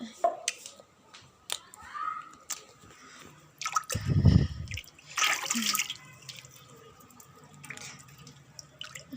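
Hands being rinsed under running water after a meal at home, a short burst of splashing and dripping in the middle, with household voices and clatter around it.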